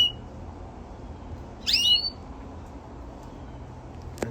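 A Greensinger in an aviary where a hybrid pair is being bred gives a single short burst of bright chirping notes, close and clear, over a faint steady background hiss.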